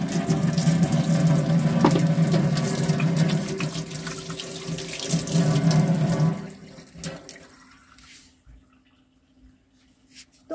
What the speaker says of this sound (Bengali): আগে আমি হাতটা ভালো করে ধুয়ে নিই